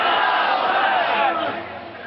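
A large religious gathering answers with a loud collective shout of the takbir, many voices roaring together for about two seconds, close and full, then fading slightly.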